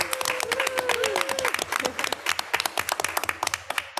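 An audience at a school board meeting claps and cheers for a family and consumer science teacher, dense applause with whoops and voices that thins into scattered claps near the end.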